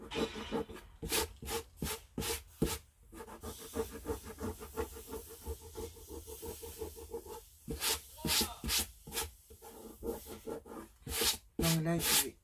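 A sponge rubbed over an image transfer in mixed media craft work, a close series of short scratchy rubbing strokes in uneven bursts, with some sustained scraping between them and no talking.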